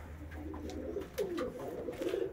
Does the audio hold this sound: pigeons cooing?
yes